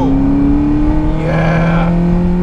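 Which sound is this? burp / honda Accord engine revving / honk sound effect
honda Accord engine revving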